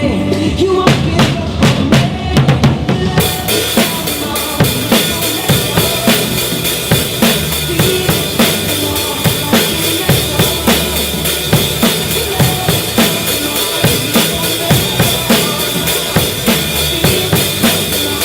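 A drum kit plays a steady, driving beat with regular kick and snare hits and bright cymbals washing throughout, loud and close.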